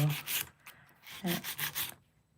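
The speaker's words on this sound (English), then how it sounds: "It's acrylic, so the 100 grit will be fine." A 100 grit file rubbing back and forth across an acrylic nail, quick close scratchy strokes in a short uneven rhythm, then trailing off.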